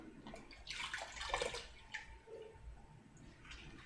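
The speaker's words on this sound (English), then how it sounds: "I'm going to take them out of this water and just place them on a plate for right now." Corn cobs still in their husks are lifted out of a container of soaking water, giving quiet close splashes and trickling drips in two or three bursts, with soft dripping between.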